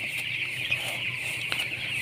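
Chickens cluck softly in a coop, adapting after removal from brooder heat. Scattered short clucks sit over a steady high hiss of background noise, fairly faint and without any talk.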